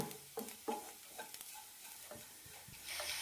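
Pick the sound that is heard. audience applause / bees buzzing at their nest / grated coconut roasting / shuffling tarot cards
grated coconut roasting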